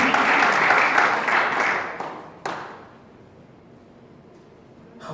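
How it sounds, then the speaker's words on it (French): A church congregation bursts into loud, dense clapping and cheering for Jehovah Rapha, sustained for about two seconds, then tapering with a final sharp clap before the room falls quiet. "Aidez-moi à acclamer pour Jéhovah Rapha."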